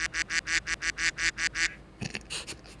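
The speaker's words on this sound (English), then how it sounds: "Duck quacking." A duck quacks in a quick series of about nine evenly spaced quacks, followed by a short pause and a few more irregular quacks, close and fairly quiet, with no talking.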